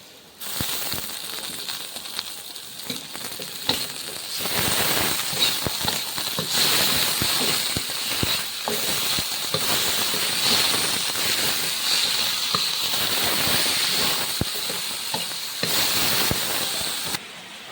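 Chicken, 1.5 kilograms, fries in a pan of sautéed onions for Pallipalayam chicken, giving a loud, continuous crackling sizzle with sharp pops throughout, heard alone.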